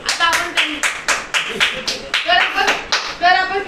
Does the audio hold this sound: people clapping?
yes